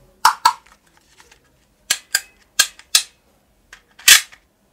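A green ball-bullet toy gun fires in sharp, close snapping shots, heard in pairs and singles with short quiet gaps between them.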